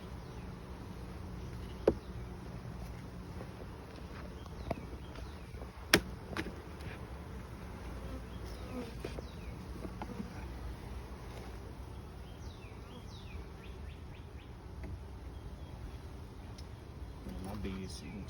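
Honey bees buzzing around an open hive during an inspection, a faint steady drone under quiet handling clicks and a few sharp knocks, with a person talking softly at times.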